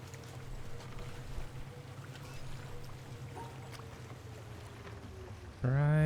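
A boat moving across water in the video game The Witness gives a steady low rumbling hum with soft washing water noise throughout, fairly quiet, ending with a brief tonal sound.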